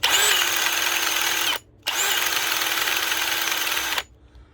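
A Milwaukee M18 Fuel Gen 3 cordless drill runs on an older, partly drained 1.5Ah battery, giving two close high-pitched whirring bursts of steady motor whine with a brief stop between them.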